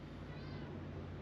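A house cat named Missy gives a faint, brief meow at night indoors, a single short call against low background hum.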